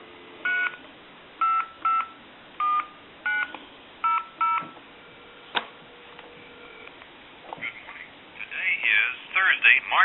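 Touch-tone keypad dialing a time-and-temperature service on a candlestick telephone converted with a bellbox, a run of about ten crisp DTMF beeps in short bursts, then a brief pause and a recorded announcement voice starting up.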